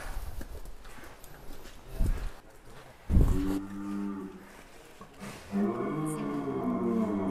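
Big sacrificial cattle at a weighing site give deep, drawn-out moos, two or three calls rising loud and close, with hooves shuffling and background crowd noise.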